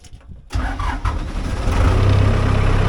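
A truck with a 4BT Cummins diesel engine cranks briefly and catches, then settles into a loud, close, rough idle that grows steadier and louder toward the end.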